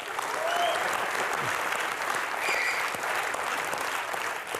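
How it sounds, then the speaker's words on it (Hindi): A studio audience at a comedy show claps in a steady, broad wash of applause. It stays at an even level from start to finish with no talk over it. "पर यार तालियां बनती हैं"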